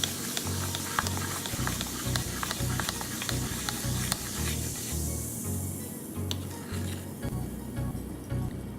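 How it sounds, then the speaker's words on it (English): Baking soda stirred into vinegar for vegan cookie dough, a soft fizzing hiss under repeated rhythmic scraping and tapping of a utensil against a bowl, close and fairly quiet. "go ahead and add the baking soda into the vinegar, and that is acting as our egg substitute"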